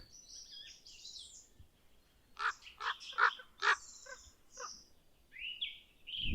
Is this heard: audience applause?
no